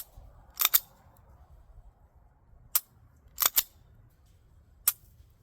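Several sharp, dry clicks from an unloaded SAR 9T pistol's trigger being pulled: a close double snap, then single clicks spaced a second or more apart, each crisp and isolated over a quiet room hum.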